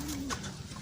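Pigeons cooing in a loft where a racing bird is kept, a short soft coo over steady low background rumble, fairly close and moderately quiet.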